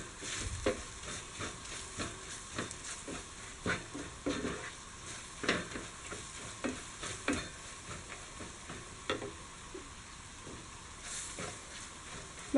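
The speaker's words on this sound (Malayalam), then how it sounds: "ഇനി മസാല എല്ലാം കൂടെ ഒന്ന് മൂപ്പിക്കാം" Ground masala with coriander powder, garam masala and chili powder frying in a pan for cauliflower fry, with a steady low sizzle and repeated scraping stir strokes close by, and no talk.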